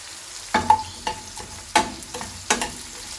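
Garlic frying in a pan for a shrimp gravy, a soft close sizzle broken by four or five scraping stirs of a spoon, spaced unevenly.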